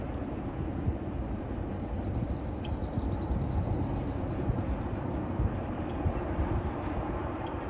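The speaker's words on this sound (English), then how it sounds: "a really interesting train with an SD70M2" A freight train led by an SD70M2 locomotive rolls past at a distance, giving a steady low rumble of engine and wheels with faint squeals above it, and no voices.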